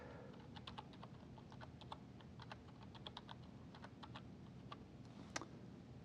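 Someone types an IP address on a keyboard: soft, irregular keystroke clicks in a quiet room, faint overall, with one sharper click near the end.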